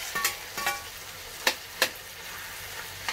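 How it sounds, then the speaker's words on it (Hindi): Roasted eggplant added to a cooked tomato masala for baingan bharta and stirred in a pan, a steady frying hiss under a few sharp scraping strokes of a spoon. "अब मैं इसमें ये भुने हुए बैंगन भी ऐड कर देती हूँ"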